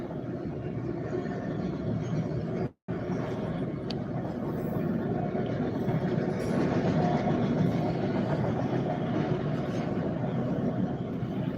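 A CSX freight train carrying coil cars and auto racks rumbles past close by in New Castle, Pennsylvania, a loud, continuous roar holding steady for several seconds, with one brief dropout early on.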